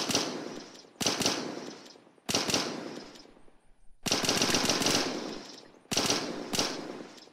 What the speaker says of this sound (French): le son de l'arme est assez bien